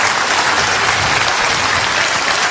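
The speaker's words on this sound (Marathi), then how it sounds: "जोरात टाळ्यांच्या गजरात" An audience at a live Buddhist dhamma sermon in Mumbai claps steadily, a dense, even wash of applause held at a constant level throughout with no voices.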